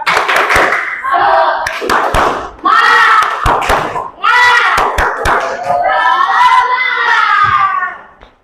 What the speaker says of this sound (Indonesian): Ayo, siap-siap, kita tepuk semangat dulu ya.